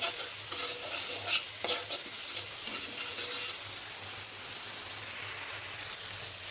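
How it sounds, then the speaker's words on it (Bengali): Dried shutki fish sautéing in plenty of oil, a steady close sizzle and hiss running throughout with occasional stirring scrapes, no voices. "এই যে শুটকি মাছগুলো দিয়ে দিয়েছি তো এগুলো আগে একটু কষা মানে করে নেব"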